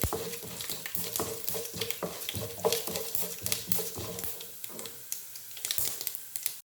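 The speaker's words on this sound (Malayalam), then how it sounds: "ഒന്ന് ഇളക്കി കൊടുക്കാം." Urad dal frying in hot coconut oil with mustard seeds, stirred with repeated scraping strokes against the pan over a soft sizzle, close and fairly quiet, no talk.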